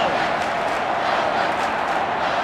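A stadium crowd in the Australian football game AFL Evolution 2 roars without pause after a Melbourne goal, a dense, loud wash of cheering that stays even from start to finish.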